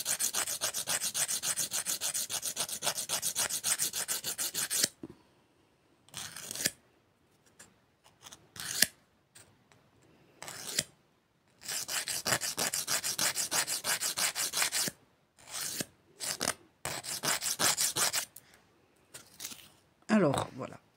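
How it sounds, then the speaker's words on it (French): Steady rasping of a nail file shaping fiber rubber gel nails, in long continuous strokes up close, alternating with brief gaps and short bursts of a voice talking. "Je finis de limer, je reviens."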